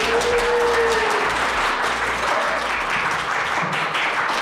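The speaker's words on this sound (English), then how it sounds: "I'd ask you to give us a round of applause" A live podcast audience, recorded in front of a crowd for Sweater Weather, breaks into loud, dense applause that fills the room and slowly thins out. A faint whistle or cheer rises near the start.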